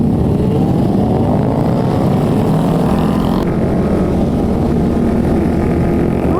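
Several motorbikes, including a Honda CBR150, on a crowded heavy-duty night ride in Maros, their engines droning steadily and loudly up close, with a dense, continuous rumble and no speech.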